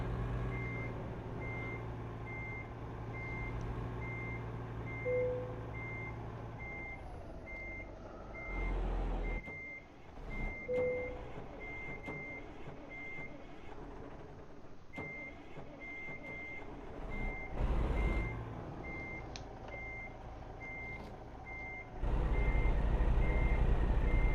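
Truck reversing alarm in American Truck Simulator, evenly spaced electronic beeps repeating over a low diesel engine rumble, with a brief pause in the middle and the engine growing louder at the end.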